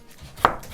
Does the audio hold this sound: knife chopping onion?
yes